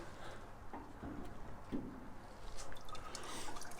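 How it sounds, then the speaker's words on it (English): Water splashing and trickling steadily into a shallow maple syrup evaporator pan in a sugar shack as a valve opens, a continuous wet rush with small drips, moderately close. "I just opened the valve. You guys can hear and see more water's coming in"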